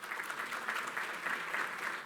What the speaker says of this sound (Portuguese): Por gentileza, Christian, peço uma salva de palmas.